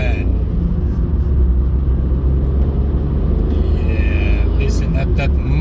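A Citroen C1 1.4 HDi diesel, a 2015 car, pulling away from traffic lights, heard from inside with a steady, loud low rumble and engine drone throughout, with faint wind and road noise.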